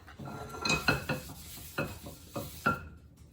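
Metal pan handled on a stovetop while cooking risoles, with several clattering knocks and scrapes of a utensil against the pan, close and moderately loud, without speech.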